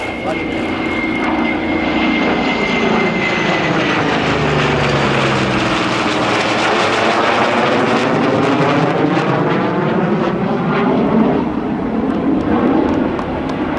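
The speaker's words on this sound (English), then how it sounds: "Dameo and Paul Felini in the Navy's legacy flight" US Navy legacy flight aircraft roar overhead at the Dayton airshow, a loud sustained propeller and engine drone that swells and shifts in pitch as they pass, with an announcer talking over it.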